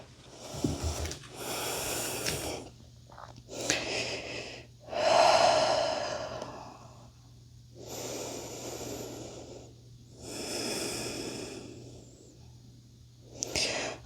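Slow, steady breaths during a yoga flow, several long inhales and exhales in a rhythmic cycle, close and fairly soft, with no talking.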